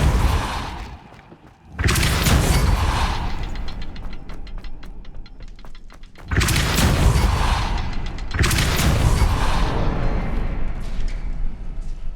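A Depulso spell cast in Hogwarts Legacy, heard as loud booming blasts of force at about 2 and 6.5 seconds, each followed by a sustained rumbling roar, with a rapid ticking rattle in between.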